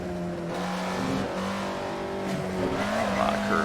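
Alfa Romeo 33 Stradale engine in the Assetto Corsa racing game, revving loudly with shifting pitch as it brakes into a curve and accelerates out, with a hint of tire squeal.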